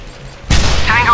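A sudden loud burst of video game gunfire erupts after a quiet moment as an RPG is fired, followed by a sustained rumbling blast with a rising whistle-like tone trailing off.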